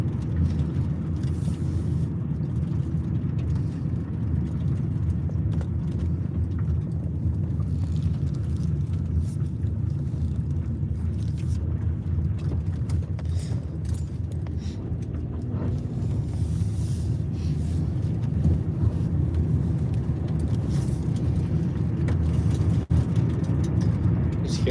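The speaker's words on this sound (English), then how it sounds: "Just hear all the salt getting kicked up under my car." Car driving over a salted winter road, a steady broadband rumble of tires and loose salt spraying against the underside, continuous and close throughout.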